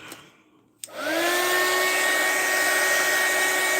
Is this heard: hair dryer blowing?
yes